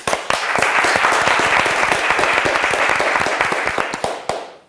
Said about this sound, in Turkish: Bir daha bir alkış gönderin.